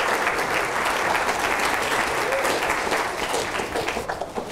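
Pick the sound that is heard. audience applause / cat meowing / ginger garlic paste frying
audience applause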